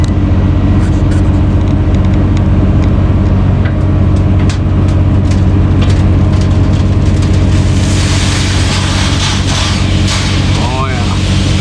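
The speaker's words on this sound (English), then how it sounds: "First truck's here." A loaded dump truck hauling quarry stone rumbles in at a driveway excavation site, its diesel engine loud and continuous throughout, with a rising hiss and rattle near the end as it pulls up.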